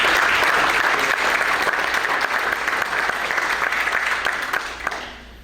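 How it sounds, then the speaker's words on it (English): An audience at a veterans employment panel applauds the panelists with steady, dense clapping from many hands, loud throughout and tapering off at the end. "if you wouldn't mind just giving these panelists a round of applause"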